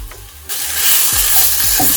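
A vegetable cutlet mixture of beetroot and carrot with added sugar is stirred in a hot pan, a loud steady sizzle rising suddenly and carrying a few soft spatula scrapes underneath.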